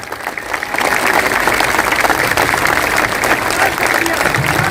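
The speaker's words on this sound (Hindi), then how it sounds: "जोर से ताली बजाइए।" A crowd applauds steadily at a Jan Suraaj political party event, with dense, sustained clapping that begins abruptly and continues loudly to the end.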